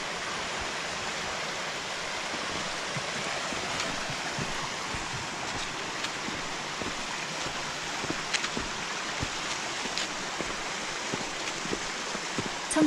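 A small mountain stream in a snowy valley pours down over little falls, giving a steady, moderately quiet rush of flowing water with faint splashes and drips throughout, no voices.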